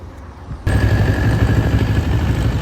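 After a short quiet start, a Moto Morini X-Cape 700 motorcycle engine suddenly starts up and settles into a loud, steady idle close by, with no one speaking.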